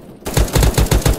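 Rapid automatic gunfire in a shooter video game, a loud close burst of evenly spaced shots starting abruptly after a brief quiet moment.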